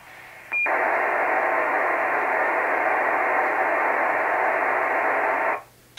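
IC-7100 digital voice transmission on a single sideband receiver: after a brief click, a steady, loud hiss-like rush holds for about five seconds, then cuts off abruptly.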